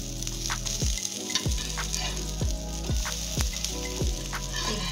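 A flipped uttapam sizzling in ghee on a hot pan, a continuous soft crackle with a regular thumping beat of rhythmic low knocks every second or so, no talking.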